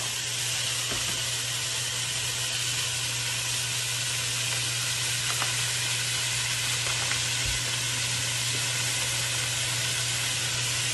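Onions sautéing with tomatoes and bell peppers in a pan for a chicken and vegetable maqluba, giving a steady, dense sizzle that carries on unbroken under a low, constant hum, and no one speaks.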